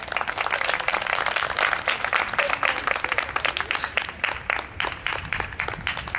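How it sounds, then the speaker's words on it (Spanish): Audience applause at an International Cocoa Day event in 2018, greeting the director of a chocolate and cocoa museum: steady, dense clapping from a crowd, loud and close, sustained throughout before thinning slightly at the end. "y para quien les pido un fuerte aplauso"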